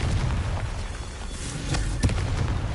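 A Confringo blasting spell in Hogwarts Legacy bursts with a booming explosion over a dense, continuous rumble of combat noise, with a sharper blast near the end.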